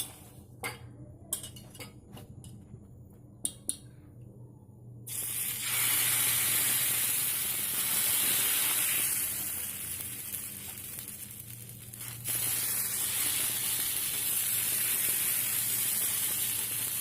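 Dosa batter made with drumstick leaves hits a hot stone griddle with a sudden loud, hissing sizzle that holds steady, after a few light metal clinks of utensils in a quiet kitchen.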